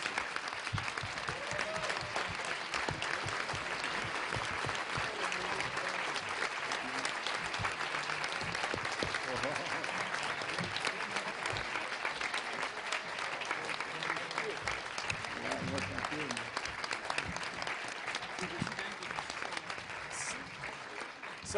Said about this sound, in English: So one last round of applause for our esteemed legends and leaders.